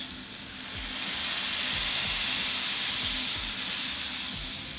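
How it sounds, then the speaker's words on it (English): A burger patty smashed down onto thinly sliced onions on a hot griddle sizzles loudly and steadily, with a hissing, steamy roar that swells after the first second and stays strong, plus faint low knocks underneath. "we put the burger on top of those thinly sliced onions"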